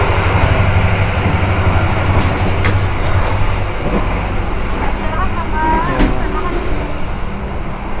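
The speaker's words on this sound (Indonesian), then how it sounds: "Dan ini adalah kereta api Argo Bromo Anggrek kelas eksekutif yang biasa ya teman-teman." Inside a running Argo Bromo Anggrek executive-class train, a constant low rumble and rolling roar fills the car, with faint clicks and rattles scattered through.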